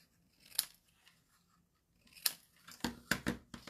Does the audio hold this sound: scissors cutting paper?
yes